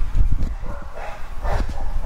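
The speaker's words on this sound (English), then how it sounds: "Those dogs did not like my singing." Several dogs bark and yip beside a road, a cluster of close, loud barks in quick succession with no one talking.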